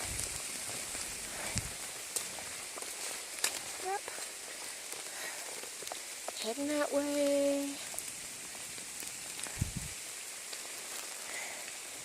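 Steady light rain patters and hisses on an Appalachian Trail hike near the Delaware Water Gap, continuing through the whole stretch while a person briefly speaks partway through.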